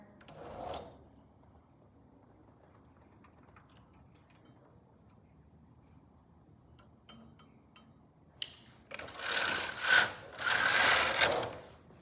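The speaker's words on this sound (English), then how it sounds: "selecting every other group of 2 needles on both beds" Needles being selected by hand on a Silver Reed knitting machine, a run of light ticks and clicks followed by loud metallic sliding rasps, close by with no talk.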